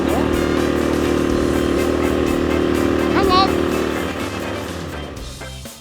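A restored 1960s Centaur suitcase bike's small engine drones steadily through a test ride, close and continuous, fading slightly near the end, with a voice calling out briefly over it.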